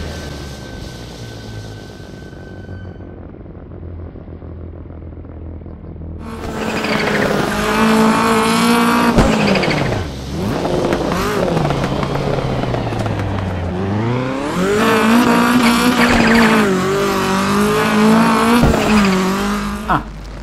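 A rally car in a racing video game drives and brakes on a loose, low-grip surface, with a faint idle giving way to loud revving engine roar, rising and falling as it shifts, plus brief tire scrubbing.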